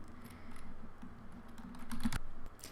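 Rapid clicking of keys on a computer keyboard as an email address, username and password are entered into an online signup form, steady close-up tapping with a few louder strokes and no voices.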